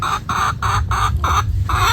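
Chickens shut in a coop made of pallet wood cluck loudly and insistently, a rapid series of about six strong, evenly spaced calls over a constant low rumble.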